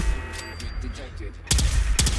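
Old-world security turrets in Fallout 4 fire in short bursts of gunfire, loud and close, after a stretch of quieter game noise. A synthetic voice speaks briefly in between.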